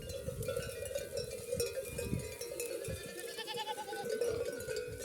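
A flock of sheep grazing outdoors in cool weather bleats and mingles with clanking bells, a dense rustling murmur of animals close by with no talking.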